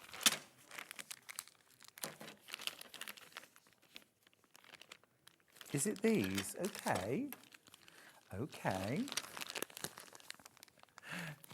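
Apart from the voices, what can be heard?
crinkling plastic packaging of scissors being opened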